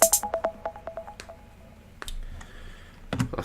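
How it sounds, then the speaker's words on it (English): Phone notification tones sound through headphones during a Red Bull Ring race stream: a quick run of about a dozen short, evenly spaced beeps fading out, then a few faint clicks, close and quiet. "I can hear my notifications come through in my ears now."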